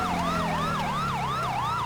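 Wailing ambulance siren in the video game GTA 5, loud and close, sweeping up and down in a steady repeating cycle about every third of a second over a low engine rumble, with no talking.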